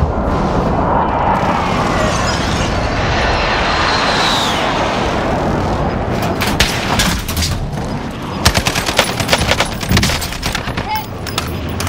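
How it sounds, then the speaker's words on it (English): Airstrike explosions in Call of Duty Warzone, with heavy rumbling booms and a whistling descent followed by rapid cracking blasts and gunfire, loud and dense, with some voices under the barrage. "Allied precision airstrike incoming"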